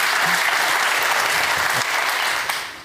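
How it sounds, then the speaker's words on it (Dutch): A theater audience applauds a guest at a live interview event, a dense and steady roar of many hands clapping that stays loud throughout, then begins to fade toward the end. "Dan geef ik nog één keer weer een applaus,"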